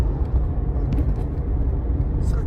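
A car engine runs as the gas pedal is pressed, giving a steady close rumbling drone with no clear rise or fall.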